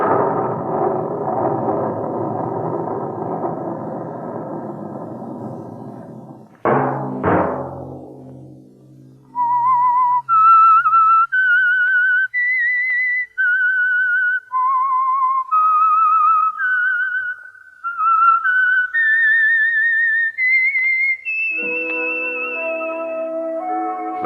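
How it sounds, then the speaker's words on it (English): Whistled theme signal of The Whistler, a classic horror radio program: after an orchestral sting dies away, a lone human whistler carries a slow, eerie melody of clear sustained notes, with music returning at the end. "Let that whistle be your signal for the Signal Oil program, The Whistler"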